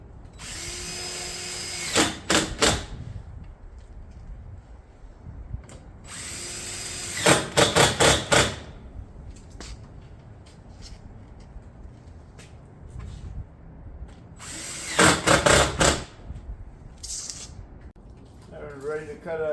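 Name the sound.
fastening Granite Ridge roof shingles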